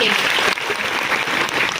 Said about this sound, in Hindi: एक बार जोरदार तालियां सभी लोगों के लिए।